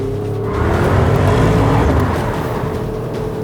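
A D3 Porsche Cayenne Turbo GT drives by under power, its engine note swelling to a loud peak around the middle and then easing off, a smooth rising hum backed by road and tyre rush.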